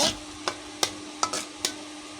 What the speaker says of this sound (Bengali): ভালো করে নেড়ে নেড়ে আমি এটা আবার জল শুকিয়ে নেব